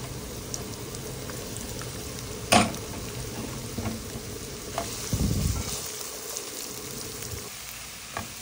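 Garlic, green chilies and onion fry in hot oil for a chicken curry, a steady soft sizzle with a few sharp clinks of a stirring spoon against the pan and a brief stir midway, no voices.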